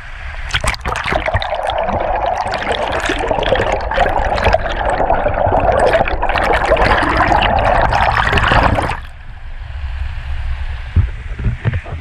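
River rapids rushing over rocks in Washington State, a loud, steady broadband roar of flowing water close by that drops to a softer, more distant wash near the end.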